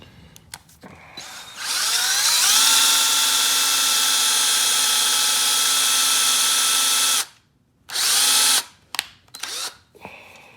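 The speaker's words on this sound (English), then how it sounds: "I'm going to go ahead and run this real quick with the drill and just touch that face up" A power drill whirs loudly and steadily for several seconds, stops, then gives a couple of short bursts close by.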